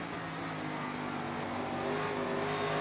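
A NASCAR Cup Series race car engine drones continuously on the Bristol dirt track with a rough, gritty roar, its revs wavering slightly as the throttle is worked, with no voices.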